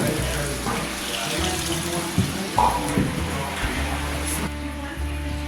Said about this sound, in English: in the distillery where that water was going, I'm gonna show you, it's actually running through the wall over here